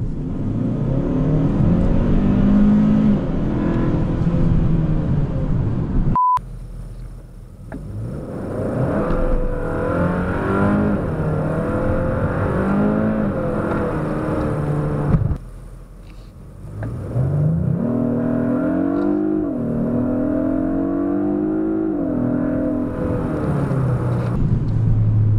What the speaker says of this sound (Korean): 일단 엔진 소리 한번 들어보실래요?